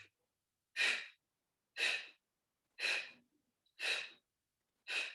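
Forceful exhalations out through the mouth during a power yoga abs pulse, five breathy whooshes about one second apart, close and clear, each followed by a brief silence.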